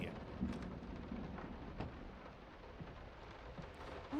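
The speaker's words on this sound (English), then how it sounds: "It's raining." Steady rain in the video game Layers of Fear hissing and pattering on surfaces through an open window, with a faint low rumble underneath and occasional louder drops.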